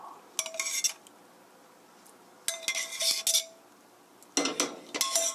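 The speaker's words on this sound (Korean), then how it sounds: "다 됐으면 고루 섞어 주시고요" Metal utensil stirring chicken spaghetti in a pan with the heat off, three bursts of scraping and clinking against the pan with quiet pauses between, close and fairly loud, no talking.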